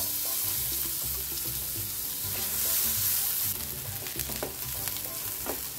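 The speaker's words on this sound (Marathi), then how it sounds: "कांदा आता खरपूस परतत आला आहे" Finely chopped onion fries in hot oil with cumin seeds and a pinch of asafoetida, giving a steady close sizzle with occasional scraping and stirring clicks.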